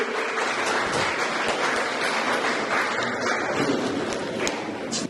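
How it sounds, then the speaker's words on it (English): An audience applauds through the whole stretch at an art exhibition opening, a dense, steady wash of many hands clapping that holds loud and even, tapering slightly at the end. "Another round of applause, please."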